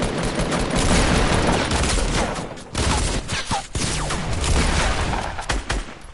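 Gunfire rattles in Fortnite, rapid bursts of shots cracking in quick succession, close and loud, with brief pauses between volleys.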